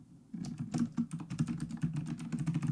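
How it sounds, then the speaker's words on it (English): Rapid clicking of keys on a new mechanical computer keyboard, a steady close-up run of crisp keystrokes with no talking. "Do you hear my new mechanical keyboard, by the way?"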